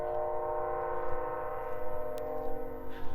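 A distant train drones steadily in the background at a car dealership, a sustained horn-like hum with a faint low rumble, quiet throughout.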